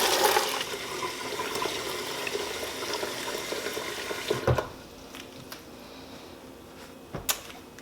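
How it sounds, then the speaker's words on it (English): Kitchen tap water runs loudly into a quart container for blanching peas, a steady rushing pour that cuts off sharply after about four seconds, leaving quiet room tone and a couple of light knocks. "Now we're gonna fill up this quart with water"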